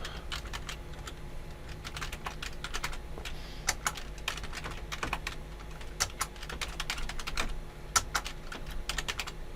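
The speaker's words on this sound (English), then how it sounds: "I am going to just type in what you have." Steady typing on a computer keyboard, rapid irregular key clicks close by and quiet, without speech.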